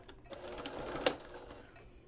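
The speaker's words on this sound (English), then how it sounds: "And then I'm going to sew my 1/4 inch seam." Sewing machine stitching a quarter-inch seam on a dress sleeve, a soft rapid mechanical whir with a small click partway through, brief and fairly quiet.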